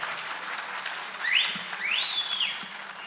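Crowd applause at a political speech in Malatya, Turkey, dense clapping from a sizeable audience heard steadily throughout, with a couple of rising whistles cutting through midway.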